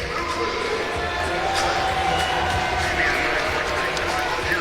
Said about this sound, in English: the fans here cheering on their Bulls